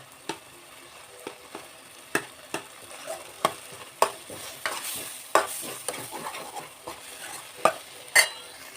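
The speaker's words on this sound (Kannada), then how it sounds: "ಇವಾಗ ಈ ಥರ ಫ್ರೈ ಮಾಡ್ತಾ ಇದ್ದೀನಿ" Soft, continuous sizzling of mutton brain (bheja) frying in a pan, punctuated by sharp clinks and scrapes of a spoon stirring, close and fairly quiet.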